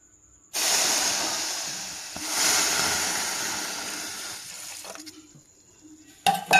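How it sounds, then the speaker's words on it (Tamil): Water poured into roasted moong dal in a pot on the stove: a loud, sudden rushing hiss that swells, holds and gradually tapers off, ending with a few clinks and knocks of utensils. "இப்போ இதில் அப்படி நம்ம என்ன பண்ணிடணும், தண்ணி விட்டு வேக வச்சிடலாம்."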